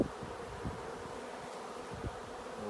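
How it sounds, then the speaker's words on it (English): Dense, steady buzzing of a honey bee swarm close by as it is put into a Kenyan top bar hive, a continuous droning hum with a few louder passes. "push these bees down into the hive"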